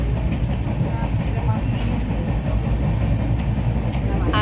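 Inside a moving train, a constant low rumble and rattle of the carriage runs on steadily, with faint voices in the background.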